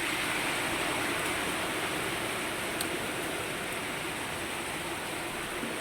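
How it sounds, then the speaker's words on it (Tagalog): Heavy rain pours down steadily as a dense, loud, even hiss that fills the whole clip without break, right after three vehicles were washed. "Lakas ng ulan."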